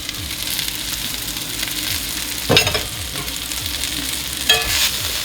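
Onions fry in a pan with a loud, steady sizzle throughout, broken by a couple of brief clanks from stirring. No one talks.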